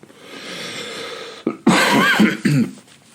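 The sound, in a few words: cough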